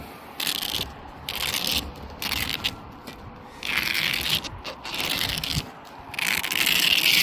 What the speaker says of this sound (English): Roll the tonneau cover just like that.